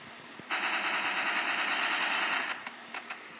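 An AK rifle fires in the mobile shooter Bullet Force, a sharp sustained automatic burst of about two seconds followed by a few scattered single shots, loud and close.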